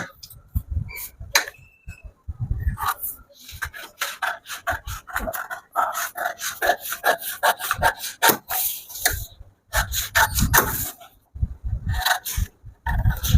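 Scissors cut through fabric along the front piece of a size 40 blouse pattern, giving close, uneven rasping snips and crunches in short bursts with brief pauses between them.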